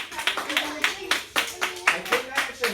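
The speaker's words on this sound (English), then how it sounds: "Just clap your hands, right?" An audience claps its hands together in a steady, even rhythm, with about four claps a second, at moderate, slightly distant volume.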